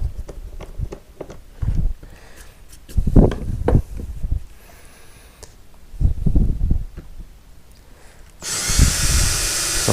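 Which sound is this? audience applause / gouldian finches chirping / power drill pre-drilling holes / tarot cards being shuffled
power drill pre-drilling holes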